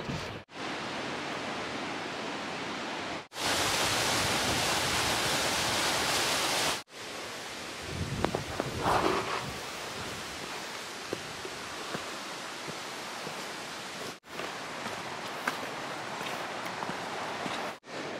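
A small waterfall at Hayburn Wyke on the Cleveland Way coast, with little water going over it, heard as a steady broadband rush that is loud and close in stretches and separated by brief cuts.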